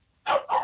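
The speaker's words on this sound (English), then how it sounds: "you're going to have to deal with your canine" A dog gives two quick, close barks in a row, loud against an otherwise quiet background.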